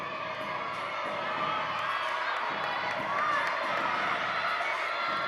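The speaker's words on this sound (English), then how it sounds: "The crowd really getting into this one" A crowd cheers and shouts steadily at a college gymnastics meet, a continuous roar of voices with a commentator's speech over it.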